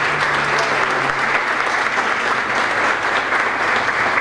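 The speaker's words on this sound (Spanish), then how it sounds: "fuerte el aplauso para ella" A crowd claps steadily and loudly for a choir soloist, a dense, even wash of applause that carries on unbroken from start to finish.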